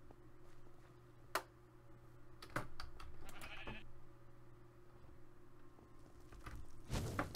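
Sheep bleat in a sheep quest video game, several short separate bleats with ticking clicks between them, then a louder burst near the end.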